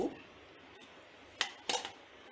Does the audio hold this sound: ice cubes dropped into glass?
yes